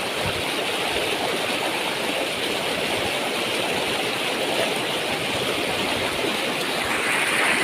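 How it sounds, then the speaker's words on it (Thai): Rainwater rushes steadily down a flowing channel, a loud, continuous broadband roar with no breaks and no voices over it. "ฝนตก ที่ไรนะครับ น้ำไหลตลอดเลยนะครับผม"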